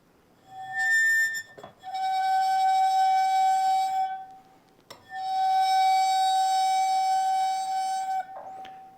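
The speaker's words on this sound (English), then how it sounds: "another way to put energy into a wine glass, besides hitting it, is with a bow" A wine glass bowed with a bow rings out in long, pure, sustained tones, two main swells with a brief bow scrape between them and a short attack at the end, clear and close.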